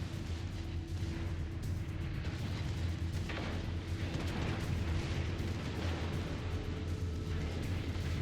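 Secondary guns of the Bismarck II battleship firing in World of Warships Legends, a dense, continuous rumble of booming shots and low engine drone with no clear gaps between rounds.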